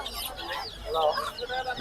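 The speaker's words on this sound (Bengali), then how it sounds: "দেশি মুরগি বাচ্চা সহ" Native desi hens with chicks cluck softly and repeatedly at close range, amid light background chatter and farmyard noise at a poultry market in Hemayetpur.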